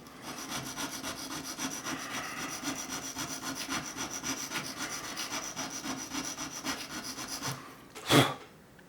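Steady back-and-forth rasping of a cheap ruling pen's metal nib being honed, continuous and close for most of the stretch, ending in a single brief louder scrape.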